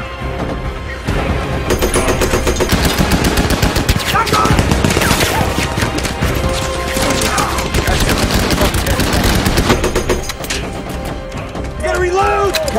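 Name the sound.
machine gun fire in a war movie battle scene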